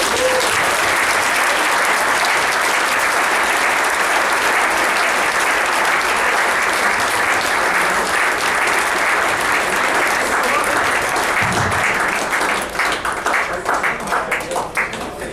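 Guests at the Ontario Squash Hall of Fame dinner applaud steadily, a loud, dense wash of clapping that holds for about twelve seconds before thinning into scattered claps at the end.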